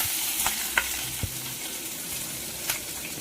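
Chopped onion, garlic and a red chilli fry in hot oil in a pan, giving a steady close sizzle with a few sharp stirring clicks and scrapes and no talking.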